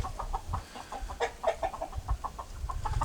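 An Asil rooster nearby gives soft, low clucks and short throaty calls in a loose, irregular series, faint and close.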